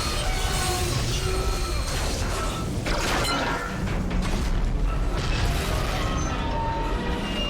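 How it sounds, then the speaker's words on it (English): Gunfire and an exploder enemy being shot in Dead Space 2, a dense, loud stretch of booming, crashing and metallic creaking game sounds with sharp impacts throughout. "just shoot that exploder instead"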